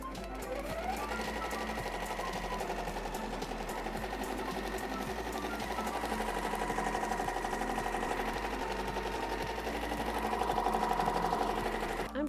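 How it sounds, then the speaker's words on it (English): An embroidery machine stitches a faux chenille applique onto a jacket, giving a steady, rapid mechanical whirring and needle chatter that runs on evenly throughout, close and moderately loud, with no talk. "I'm gonna go ahead and insert this into the embroidery machine."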